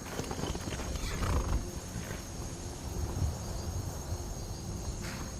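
A horse in the video game Skyrim whinnies once and its hooves clip-clop nearby outdoors, with insects chirring and wind in the background; no one speaks.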